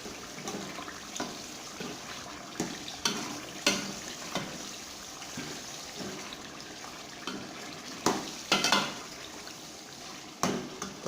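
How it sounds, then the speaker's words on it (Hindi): Chicken being sautéed with softened tomatoes in a pan gives a low, steady sizzle, with occasional clanks and scrapes of a spoon stirring the mixture. "फिर इसको अच्छी तरीके से भूनेंगे चिकन को।"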